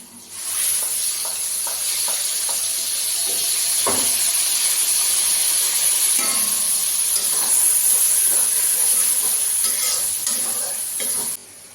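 Ginger, onion and green chili paste hits hot oil in a pan and sizzles with a loud, steady hiss that holds throughout, with occasional stirring clinks.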